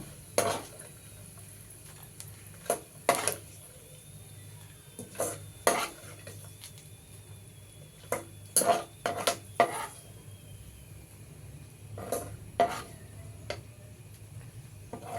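A spoon scrapes roasted beetroot rava and ghee out of a metal kadai into a bowl in a series of short, sharp strokes and clanks, with quiet pauses between bursts.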